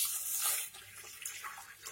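Water is poured into a pot while making homemade mint and ginger lemonade, a soft, close splashing and trickling that fades briefly, with no voices.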